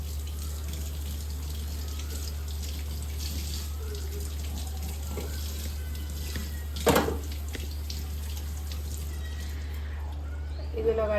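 Tap water runs steadily into a sink while hibiscus leaves are rinsed under it, with a couple of brief splashy bursts as the leaves are handled.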